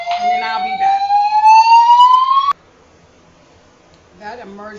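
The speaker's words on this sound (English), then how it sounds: "That emergency siren is nerve wracking." Emergency siren sounding loud and close, one long rising wail that cuts off abruptly halfway, followed by quiet and then a brief fainter return of warbling tones.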